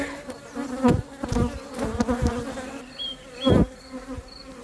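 Honeybees buzz at a hive in an apiary during the run-up to acacia bloom, with the colony edging toward swarming. A dense, steady drone is broken by several louder bees passing close by, and faint high tones sit in the background.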